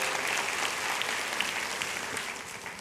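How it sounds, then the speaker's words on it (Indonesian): A congregation at an Easter church service breaks into dense, continuous applause, a loud and even wash of many hands that holds steady throughout. "kasih tepuk tangan untuk semuanya"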